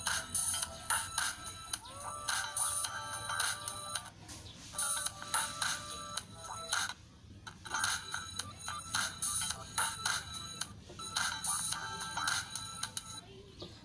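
A buzzy homemade electric horn sounds in repeated bursts separated by short pauses, fairly faint, over a steady low background hum.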